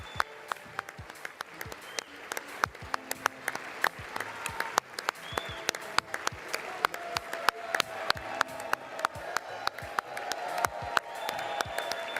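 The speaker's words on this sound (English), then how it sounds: "Big old clap." A small group gives a round of clapping on a live nightly stream, sharp individual claps in a brisk, uneven rhythm that gradually grow denser and louder, fairly close.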